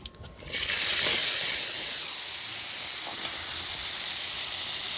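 Onion, garlic, green chili, dried red chili and nigella seeds hit hot oil and sizzle loudly, a sharp burst settling into a steady close hiss of frying with no talking.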